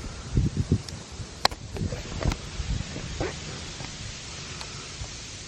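Wind buffeting a microphone outdoors in a cemetery, a steady low rumbling hiss with gusty thumps and faint rustling, no speech.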